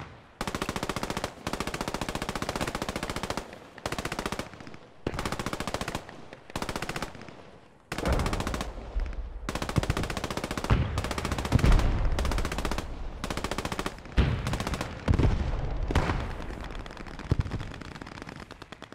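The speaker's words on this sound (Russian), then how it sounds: "Ага, пулемет слышу, слышу." Sustained machine gun fire in the WWII shooter Post Scriptum, loud and close: long automatic bursts broken by short pauses, with heavier overlapping fire and deep booms joining in the second half.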